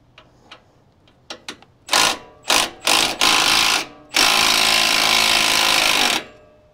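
A wrench works a 7/8 track bar bolt loose on a Jeep getting a Clayton 3.5-inch lift. A few light clicks lead into bursts of loud ratcheting, then one long continuous whir before it stops. Nobody talks.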